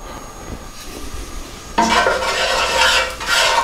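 Curry powder mix hitting hot vegetable oil in a pan sets off a sudden, loud sizzle and fry that continues steadily after a quieter start with faint stirring and utensil scrapes.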